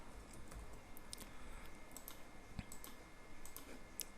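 Light, irregular keystrokes of Python code being typed on a computer keyboard, soft clicks scattered over a faint steady room hiss with no talking.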